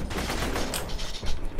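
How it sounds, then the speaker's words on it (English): Bursts of rapid gunfire rattle through a shooter video game battle against robots, a dense, loud fusillade of overlapping shots with no talking. "I hear more gunfire than usual."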